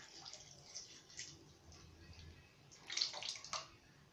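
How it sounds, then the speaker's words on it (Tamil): Soaked and strained tamarind water poured into a pan of cluster beans for a Tamil kuzhambu, a soft, faint splashing and trickling stream with a few louder gurgling surges near the end. "ஊற வைத்த புளியை நல்லா கரைச்சி விட்டுட்டு வடிகட்டிட்டு இதோட சேர்க்கணும்"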